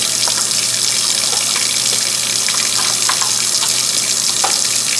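Hot water runs steadily from a kitchen tap into a sink of dishwater, a constant close hiss and splash with no talk over it.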